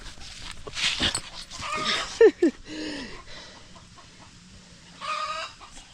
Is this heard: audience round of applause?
no